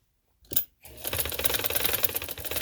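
A sewing machine stitches a neck design on cotton fabric, starting after a brief bump and near-silence and then running in a fast, even rattling patter close by, fairly quiet.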